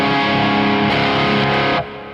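An electric guitar played through a Peavey 6505 MH amp with delay and onboard reverb rings out in a loud, sustained, distorted chord that holds and then drops to a softer trailing decay.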